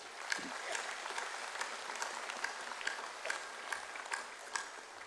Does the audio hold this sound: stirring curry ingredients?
no